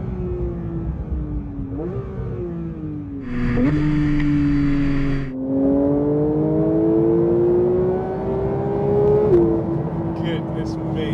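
Porsche 992 GT3 sports car with a Capristo exhaust and PDK gearbox accelerates hard, its rasping exhaust note climbing through the revs with a quick upshift and continuing to build, while people talk excitedly over it.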